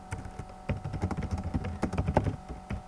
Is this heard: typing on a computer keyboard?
yes